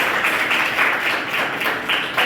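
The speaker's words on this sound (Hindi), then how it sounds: "तो परिवार के लिए एक बार जोरदार तालियां बजाइए।" Loud, sustained applause from a class audience cheering for a family, dense rapid clapping continuing steadily throughout with no speech over it.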